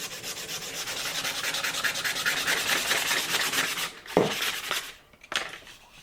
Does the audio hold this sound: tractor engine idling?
no